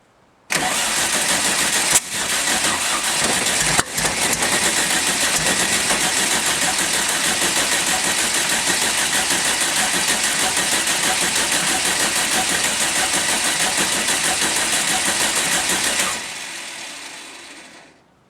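Volkswagen Beetle engine cranking over steadily for about fifteen seconds with a dense, even churning roar, close and loud, then winding down at the end; the carburetor sits loosely on top.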